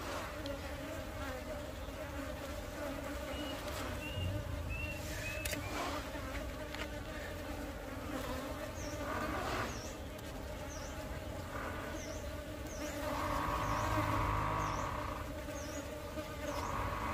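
Honeybees buzzing at a hive during preparation for the honey season, a dense continuous hum with swelling and fading individual wingbeats close by, while someone speaks over it.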